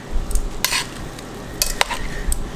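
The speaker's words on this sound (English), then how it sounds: "I'm just going to give this a stir, just to get all the juice at the bottom incorporated with the pork" Pork is stirred in its own juices in a pan, with a low continuous sizzle broken by a few sharp scrapes and clinks of the utensil against the pan.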